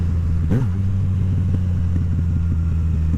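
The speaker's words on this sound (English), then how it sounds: "It just keeps rumbling" A Yamaha MT-09 fitted with a full Akrapovic exhaust idles with a deep, steady rumble close by, one brief blip of throttle near the start, then a low, even throb that keeps going.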